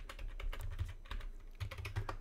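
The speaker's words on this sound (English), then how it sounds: "even I'm typing on the keyboard, nothing is seen here, but it actually accepts your key presses" A computer keyboard is typed on steadily while entering a password, a quick, irregular run of light clicking keystrokes close to the microphone, with a low hum underneath and no talking.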